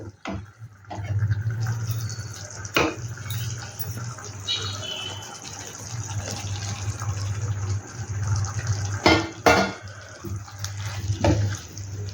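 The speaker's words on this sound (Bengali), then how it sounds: "এইবার এর মধ্যে ভিন্ডিগুলোকে দিয়ে দেব" Okra tumbles into spiced oil in a pan for dahi bhindi, setting off a steady sizzling hiss with scattered scrapes and knocks of stirring, close by over a low background hum, without speech.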